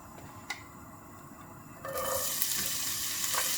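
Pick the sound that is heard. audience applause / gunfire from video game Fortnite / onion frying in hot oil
onion frying in hot oil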